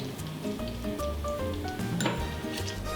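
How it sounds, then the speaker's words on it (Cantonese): Scallion whites, shallots and sliced garlic frying slowly in oil over low heat, a close, soft crackling sizzle with occasional light clinks of a utensil against the pan. "先落蔥白、乾蔥同蒜片，開細火慢炸至蔥蒜慢慢呈微焦黃色"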